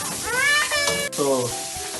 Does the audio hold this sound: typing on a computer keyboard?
no